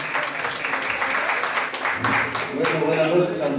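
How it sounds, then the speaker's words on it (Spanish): Guests at a 50th birthday party clap together in a sustained round of applause, with chatter and a speaking voice mixed in throughout. "un aplauso, a ver para el señor Reinaldo"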